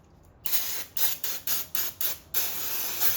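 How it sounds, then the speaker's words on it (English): Spray cleaner, then throttle body cleaner, spritzed onto removed Nissan Frontier engine parts such as the plenum: a series of close, sharp hissing spray bursts, about five short pumps followed by a longer continuous spray. "So you can spray that on there"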